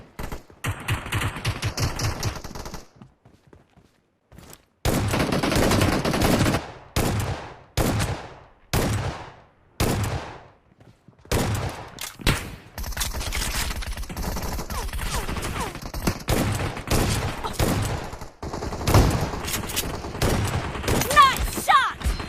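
Bursts of gunfire from the Battlegrounds Mobile India game come in rapid volleys and single shots separated by short silences, loud and up front, with some game sounds mixed in.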